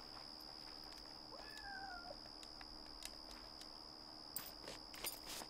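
Cat meowing in the video game Yonder: one faint drawn-out meow partway through, over a quiet steady hum with a few light footsteps and clicks.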